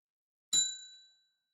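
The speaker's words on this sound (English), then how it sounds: "That was a bell." A single bell strike, a bright metallic ding that rings out with a clear sustained tone and fades away over about half a second in an otherwise silent space.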